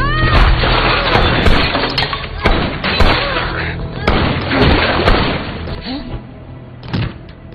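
Gunfire rings out in a film shootout: a rapid series of sharp shots and thuds with crashing impacts, loud and dense, fading slightly toward the end.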